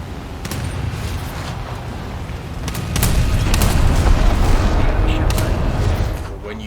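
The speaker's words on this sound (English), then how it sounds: "These are pretty large naval guns." Heavy naval guns of the Japanese IJN Kako heavy cruiser in War Thunder fire in a series of loud booming blasts over continuous low battle rumble, with no talk heard.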